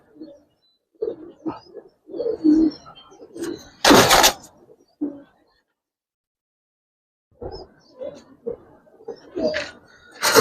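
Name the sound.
pigeons cooing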